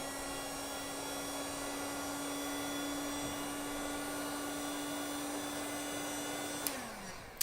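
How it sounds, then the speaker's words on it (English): A heat gun shrinks heat-shrink tubing onto wires from an ATX power supply on a recycled-electronics 3D printer build, blowing a steady airy whir with a constant hum that drops off abruptly near the end, followed by a small click. "We've just got a heat gun,"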